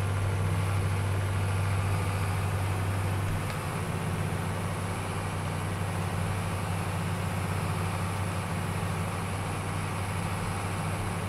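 A tractor engine idles in the video game Farming Simulator 22, giving a steady, low, continuous rumble with a slight drop in level partway through.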